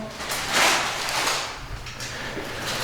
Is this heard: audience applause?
no